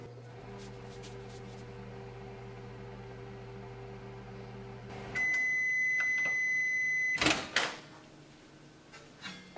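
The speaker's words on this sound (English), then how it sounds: "put it in the microwave and we're going to give 20 seconds" A microwave oven warming milk for 20 seconds hums steadily, then a loud beep sounds, followed by the clunk of the door opening and a few knocks.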